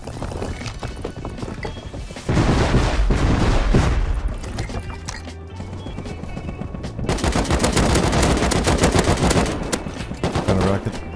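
Semi-automatic AK fire in the survival game Rust, with rapid bursts of loud gunshots running through most of the stretch and overlapping shots in quick succession.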